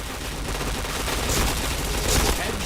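Rapid bursts of gunfire from a multiplayer video game shooter, loud and continuous with dense crackling shots, played in an internet cafe while a voice talks over the action.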